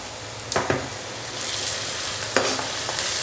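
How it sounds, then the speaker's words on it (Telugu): Fish curry masala gets stirred in a pan over a steady, loud sizzle, with a few clear spoon scrapes against the pan cutting through the frying noise. "ఇది మంచి కలపాలి"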